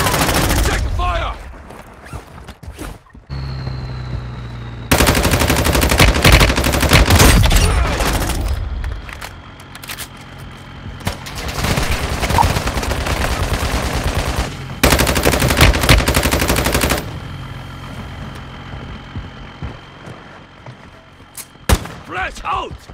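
Gunfire in the Warzone Mobile battle royale with a squad: loud bursts of automatic fire in long clusters, separated by quieter gaps, with a few sharp single shots near the end.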